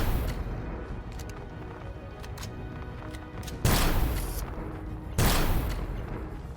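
Gunfire bursts from turrets in the sci-fi survival game Empyrion Galactic Survival, with two loud, near blasts standing out over a rattling stream of shots.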